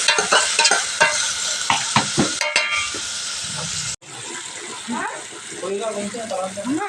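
Bottle gourd curry being stirred in a hot pan, with a sizzling hiss and repeated scraping strokes close by, a sharp cut partway through, then softer bubbling and stirring, with a voice speaking over it.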